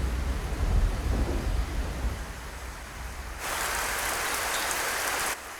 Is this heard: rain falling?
yes